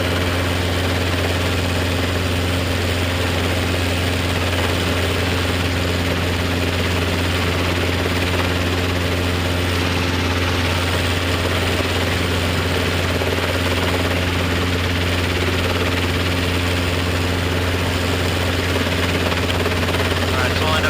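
A Robinson R22 helicopter hovers and taxis, its engine and rotor holding a loud, steady low drone with a constant throbbing hum throughout. Voices talk faintly beneath it.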